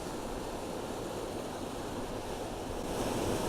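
A fast-flowing waterfall pours in a dense, steady broadband rush that fills the whole span, loud and unbroken, with no voices.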